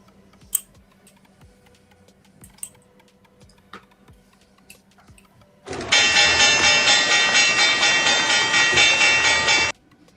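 Faint keyboard clicks and scattered taps give way to a loud, continuous rattling roar that sounds like a rushing train, played during a live trading stream and lasting about four seconds before stopping abruptly.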